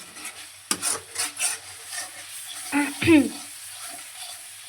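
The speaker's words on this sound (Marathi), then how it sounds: "आता आपण ह्याला हलवून घेऊया" Masala frying in a pan for cashew paneer, with a spoon stirring and scraping in rhythmic strokes over a low sizzle, close by, followed by a couple of louder clanks near the end.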